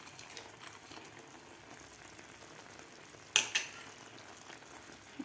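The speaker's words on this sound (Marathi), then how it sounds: "आता आपल्याला एखादा मिनिट हे केळीपाक शिजवून घ्यायचं आहे" Banana paak (kelipak), a sweet banana preparation with dry fruits, quietly cooks in a pan with a soft, steady sizzle and bubble, broken by a couple of brief louder clinks or stirring knocks midway.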